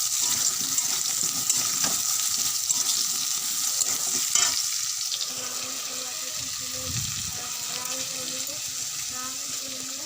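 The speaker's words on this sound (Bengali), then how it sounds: "সয়াবিনগুলো দিয়ে দিলাম, আলুর সঙ্গে ভেজে নেব" Soybean chunks and potatoes fry together in a pan with a steady, bright sizzle, punctuated by occasional scraping and stirring clatter as the mixture is turned.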